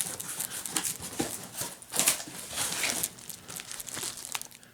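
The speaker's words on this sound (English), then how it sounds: "So I'm going to go ahead and unbox all this." Packaging crinkles and tears close by while a Pittsburgh 12-ton air hydraulic bottle jack is unboxed, giving irregular rustling and crumpling bursts with no voices.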